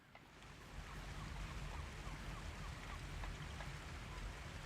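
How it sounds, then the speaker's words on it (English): A waterfall in the pirate city-builder video game Corsair Cove gives a constant rushing, splashing hiss that swells in over the first second and then holds steady and even, with no voices. "Waterfall."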